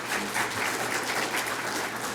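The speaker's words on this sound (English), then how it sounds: "If you could give him a round of applause" Steady applause from an audience at a master planning presentation, dense continuous clapping throughout at moderate distance with no talk.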